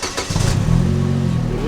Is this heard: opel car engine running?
yes